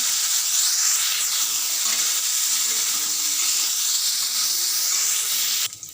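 Cauliflower hisses loudly in hot oil, a dense, continuous sizzle with a steamy edge that cuts off abruptly near the end; no voices.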